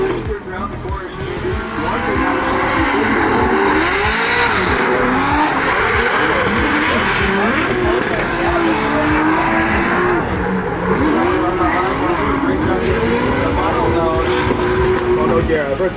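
Formula Drift Pro-Am race car drifting through a corner, a loud sustained engine roar with wavering revs and tire squeal that runs nearly the whole time, while commentary from an announcer is heard over it.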